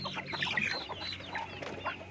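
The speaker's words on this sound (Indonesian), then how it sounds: "Ayam lagi pada ngerem ayamnya." Brooding kampung hens in a home yard give a run of close, busy clucks and soft calls, a steady chatter of several birds with no talk.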